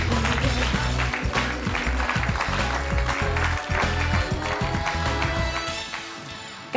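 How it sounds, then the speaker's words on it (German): Studio audience applause on an Austrian afternoon talk show as a guest is introduced: full, steady clapping that stays loud and then eases off near the end, with a low musical tone running underneath. "Applaus."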